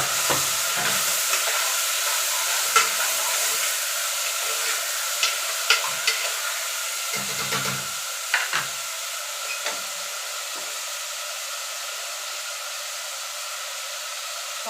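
Green pigeon peas and chopped tomato fry in a pan, a steady close sizzle and hiss with scattered soft clicks and scrapes of stirring, no voices.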